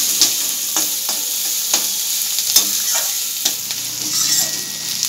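Chopped onions frying in a pan until reddish, a bright hissing sizzle broken by several distinct scraping stirs of a spatula, close and clear without any voices.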